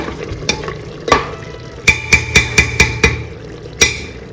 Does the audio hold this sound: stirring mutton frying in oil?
yes